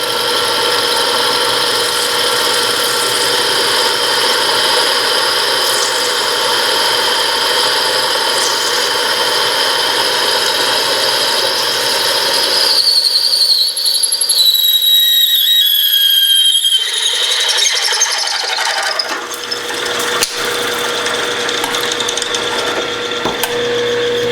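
Drill press on power down feed drilling out old parts in a garage, a steady loud machine whine with a mechanical hum that drops out briefly midway before resuming.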